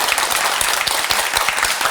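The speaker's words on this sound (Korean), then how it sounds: "박수 한번 쳐드릴까요?" A studio audience on a Korean TV show breaks into dense, steady applause, many hands clapping at once from start to finish with no break.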